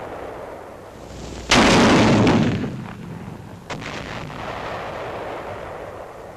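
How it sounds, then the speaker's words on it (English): A 57mm recoilless rifle fires an HEAT shell at caves 8,000 to 9,000 yards away in the Pacific theater, one loud booming blast that rolls off over a couple of seconds, followed by a sharper, smaller report. "The 57mm recoilless rifle, also in action for the first time in the Pacific theater"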